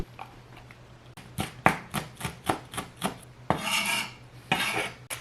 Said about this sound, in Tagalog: Chop lang natin ng maliliit.